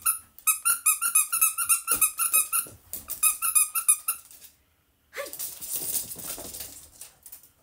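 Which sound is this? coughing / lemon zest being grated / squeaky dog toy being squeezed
squeaky dog toy being squeezed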